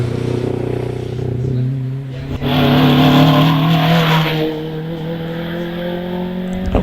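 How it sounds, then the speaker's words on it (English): A TVR Vixen races through the S bends at the Prescott hillclimb, its engine loud and close, rising to a strong peak mid-pass before easing off as it moves on. "Steve Thomas and the TVR Vixen going through the S's there"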